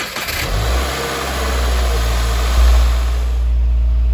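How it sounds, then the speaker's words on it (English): A Subaru WRX engine cranks and fires up right after an oil change, then settles into a loud, steady idle with a brief rise in revs, close and continuous with no talking. "start the car to get all the oil into the oil filter"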